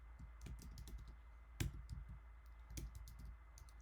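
Fingers type on a computer keyboard to log in, a quiet, close run of irregular clicking keystrokes with a few louder taps.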